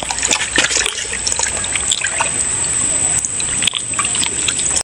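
Carambola (kamranga) fruit being washed in water, with a steady close splashing and trickling as the fruit is rinsed by hand outdoors in a village.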